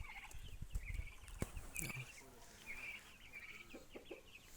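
Turkey and young chicks let out to roam a yard, with soft gobbling, clucks and high chick peeps scattered close by, plus faint rustling and brief bits of talk.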